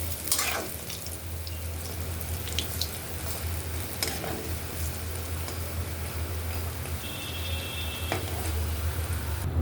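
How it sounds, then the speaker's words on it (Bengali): Lentil fritters (dal bora) sizzle steadily in hot oil, a continuous crackling hiss with occasional louder pops and spatters, close and alone without any voices. "দেখুন ডালের বড়াগুলো এইভাবে আমি ভেজে নিয়েছি আগে কটা, আর এই কটা ভেজে আমি তুলে নেব।"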